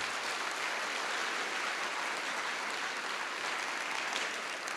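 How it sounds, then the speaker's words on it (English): Sustained audience applause for speakers at a TEDx event held at a school, a dense, even wash of many hands clapping at once, steady in loudness throughout. "a round of applause for all of our speakers for the first half."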